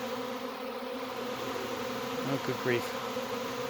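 A swarm of honey bees buzzes in a dense, steady drone close by, holding without pause throughout, while a person briefly exclaims partway through.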